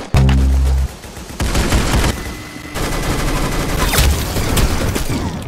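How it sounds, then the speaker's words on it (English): Rapid video-game gunfire in the Roblox shooter Arsenal: a loud opening burst of shots followed by dense, continuous automatic fire and booms layered over game effects, with no talking. "Oh, I was still shooting at him."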